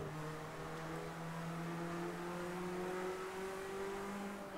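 A Ford Escort rally car at race speed, its engine holding a loud, steady drone whose pitch climbs gradually as it accelerates, with no voices over it.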